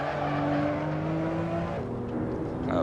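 A Porsche 911 Turbo S in the Assetto Corsa racing game holds a steady, loud engine drone close up, with the pitch easing slightly through a drift before rising again near the end.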